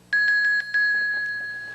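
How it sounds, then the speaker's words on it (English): A quiz show bell rings loud and close to end a preliminary round: a rapid series of bright, clanging strikes, a brief gap, then a longer ring that fades out. "that bell signals the end of the preliminary round"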